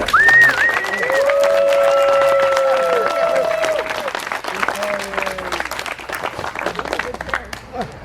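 Audience applause at an outdoor Okfest ranger ceremony walk-on, steady dense clapping from a crowd with whoops and shouts over it, fading and thinning toward the end.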